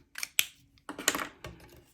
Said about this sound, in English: We'll use our snips and go right across there.